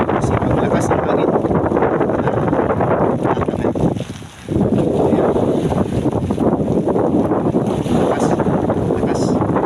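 Strong wind blowing at a shoreline during a storm, loud, roaring gusts battering the microphone almost continuously, easing briefly midway before surging back, with waves and moored boats faintly beneath.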